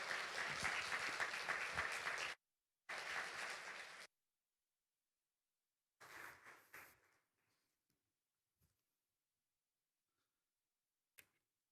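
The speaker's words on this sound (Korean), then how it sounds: "우리는 그 대신에 뜨겁게 박수로 환영해 드려야 되겠습니다" At a Sunday evening church service, the congregation claps warmly to welcome a pastor, in two strong bursts of applause separated by a short break, then a softer trailing patter and a few faint clicks in near silence.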